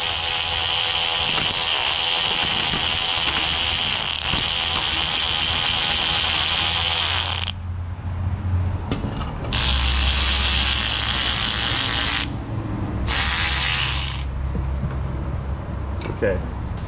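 A ratchet wrench with a socket turns a bolt, replacing crush washers, as a steady loud mechanical whirring that runs for several seconds, stops, then returns in shorter bursts.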